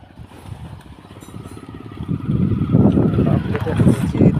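Kubota tractor engine runs nearby with a low, steady chugging throb that grows louder partway through.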